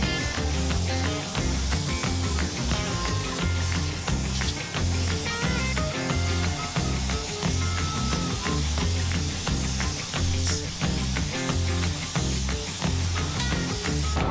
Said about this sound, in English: It took about an hour to spray all this